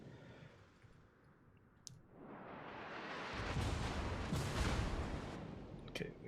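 Heavy naval gun salvos in World of Warships roll out as a dense, loud rumbling boom that swells from the middle of the stretch onward, with sharp clicks scattered through it.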